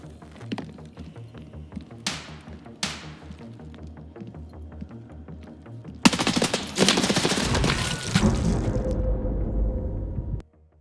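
A gunfight in Escape from Tarkov's Labs map: a few sharp, separate shots echo first, then a loud, sustained burst of rapid automatic fire runs for several seconds before cutting off abruptly into quiet.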